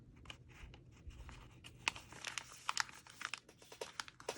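A paper die cut folded over in a craft journal, close crinkling and soft crackling of paper in short irregular rustles that grow busier toward the end.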